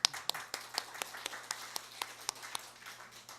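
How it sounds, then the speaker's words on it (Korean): Sparse clapping in a church training session, a handful of distinct, evenly spaced claps, faint and somewhat distant over a low steady hum. "박수하시겠습니다."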